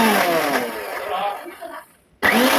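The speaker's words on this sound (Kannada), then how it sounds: "ಇವೆರಡನ್ನು ಸ್ವಲ್ಪ ನೀರು ಹಾಕಿ ಈ ರೀತಿಯಾಗಿ ನುಣ್ಣಕ್ಕೆ ರುಬ್ಕೊಂಡು ಬರೋಣ" A mixer grinder blending ingredients with a little water to a fine paste, loud and close, whirring for about two seconds, pausing briefly, then starting again.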